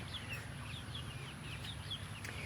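Backyard chickens heading into their coop at evening give soft, faint clucks and short chirps over a steady low background hum.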